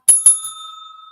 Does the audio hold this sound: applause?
no